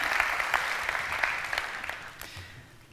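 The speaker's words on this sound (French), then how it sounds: "Je pense qu'on peut évidemment vous applaudir." A modest round of applause at a French business awards ceremony, soft, dense clapping from a crowd, fairly distant and tapering off toward the end.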